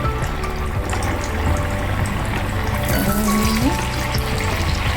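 Sabudana vada frying in well-heated oil, a continuous dense sizzle and bubbling hiss at close range with no voices.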